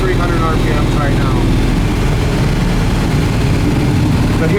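Steady, loud low rumble of a 735 hp 1971 Chevrolet Nova engine cruising at 70 mph in fifth gear around 2,300 rpm, a continuous droning roar heard from inside the car.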